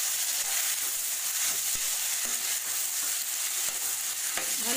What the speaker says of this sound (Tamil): கொஞ்சமாக எண்ணெய் ஊற்றணும் எண்ணெய் ஊற்றி நல்லா வணக்கணும்